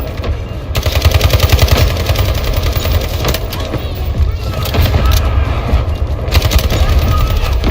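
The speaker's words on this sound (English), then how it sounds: "Artillery barrage incoming." Artillery barrage in a large Minecraft battle, rapid dense rumbling bursts of gunfire-like explosions, loud and continuous with booming low thuds, briefly pausing near the start then pounding on.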